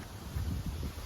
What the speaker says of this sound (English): You can tell probably it's quite windy today.